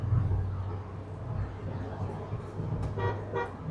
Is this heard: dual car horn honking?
yes